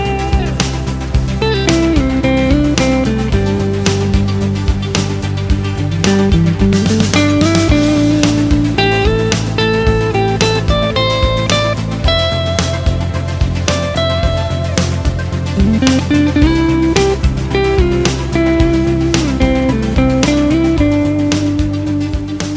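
Electric guitar solo with smooth, flowing melodic runs that slide up and down, played loudly over a full backing band with drums.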